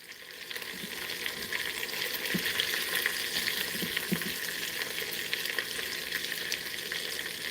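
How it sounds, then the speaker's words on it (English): Meat searing in an Instant Pot for pot roast: a steady, close sizzle of frying runs throughout at even loudness, with a few soft stirring knocks from a utensil against the pot. "Just trying to lightly sear this meat somewhat all the way through so it doesn't go all red on me"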